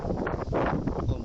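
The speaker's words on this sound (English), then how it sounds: "It's absolutely blowing a gale." Gale-force wind buffets an outdoor microphone, a dense, loud rumbling roar that fills the whole moment without pause.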